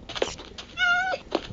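A hungry kitten meows once in a clear, drawn-out call, close by, between soft bits of speech from a person nearby.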